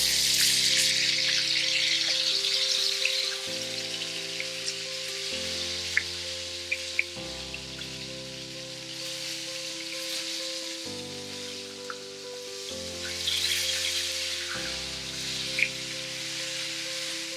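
Salmon fillets frying in a pan after being flipped, a steady close sizzle with crackles and pops throughout, set against a background of soft music chords.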